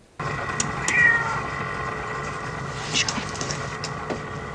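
A cat meows in the film Alien, a few short distinct meows standing out over a constant low mechanical drone of ship ambience, with faint clicks and rustles around them.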